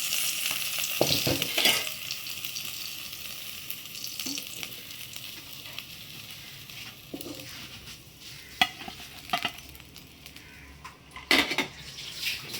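Fish pieces frying in oil in a pan for crispy fish fry, a soft continuous sizzle under clinks and scrapes of a utensil turning the pieces, with occasional louder clatters.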